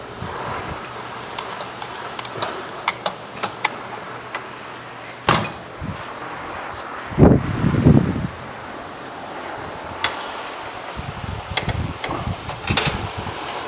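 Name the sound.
wind blowing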